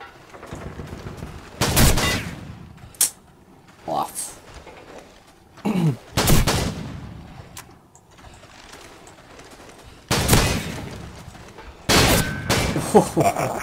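M1014 shotgun blasts ring out in Call of Duty 4 on the Shipment map during a 1v1 match, with about six loud, sharp reports spaced irregularly among quieter stretches and the players' voices.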